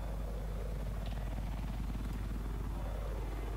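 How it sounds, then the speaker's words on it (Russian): Helicopters fight in the sky during a multiplayer video game match, with a steady droning rotor rumble filling the whole stretch, loud and continuous with no break. "До конца сражаются вертолеты в небе."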